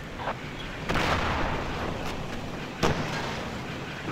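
HEAT grenades fired at a tank in a Battlefield game, with two sharp blasts, one about a second in and another near three seconds, each trailing into a rumbling wash over steady background noise.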